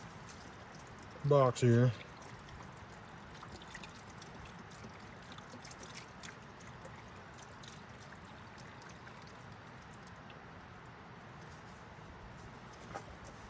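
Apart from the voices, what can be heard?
beef broth poured from a box into stew pot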